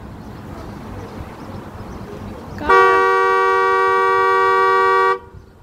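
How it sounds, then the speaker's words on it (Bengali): A car horn held in one loud, steady honk of about two and a half seconds, close by, over low idling and road background. The car is parked in a community in the desert at hot midday. "হর্ন দিচ্ছে জোরে"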